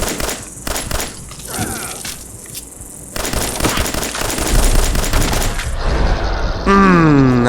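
Gunfire in Fallout 4 played at very low resolution: rapid, loud bursts of shots and a sustained fusillade, ending with a rising electronic tone.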